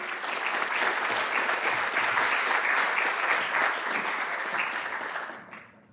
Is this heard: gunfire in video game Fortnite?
no